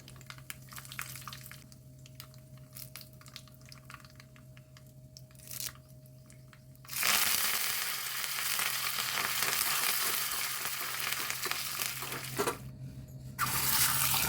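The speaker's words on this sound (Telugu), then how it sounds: "చూడండి పోపు వేసి చూపిస్తాను" Tempering of fenugreek, dried chillies and curry leaves goes into hot oil for a village-style pachi pulusu. The oil bursts into a loud, crackling sizzle partway through after quieter clinks and a faint hum, then dips and swells again.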